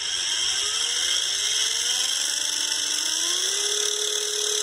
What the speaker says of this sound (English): depending on how much voltage we apply, it's how fast the motor goes